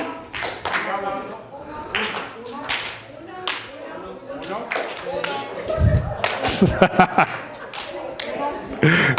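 A group claps together on cue in a session on empathy and illness awareness, sharp separate hand claps in rough unison, with voices speaking between and over them.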